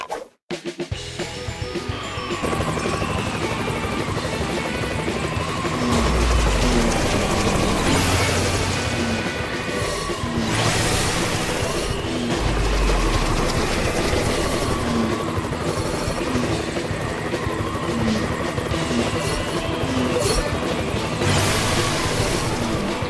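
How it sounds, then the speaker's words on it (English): In a PAW Patrol video game, a helicopter flies with a continuous whirring drone, mixed with game music and occasional thumps and effects over the whole stretch. "Sky, use your copter."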